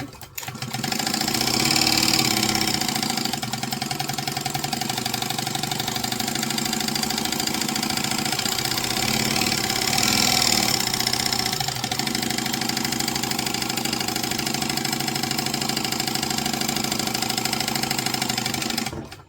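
A sewing machine stitches smooth curves while altering a sewing pattern, a continuous fast mechanical whirr and rapid needle chatter, loud and close, with slight shifts in speed over about nineteen seconds.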